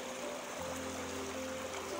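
River water flows steadily in a stream where young men are bathing, a soft continuous rush with a low hum beneath, while someone talks over it.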